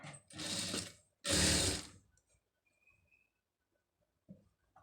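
A sewing machine stitches a blouse neck design with a silk border in two short, loud bursts, followed by quiet with a faint tap or two.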